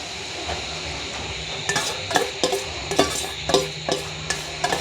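A utensil stirs beaten egg into noodles in a pan, giving a steady series of metallic scrapes and clinks against the pan over a soft background sizzle, close and moderately loud.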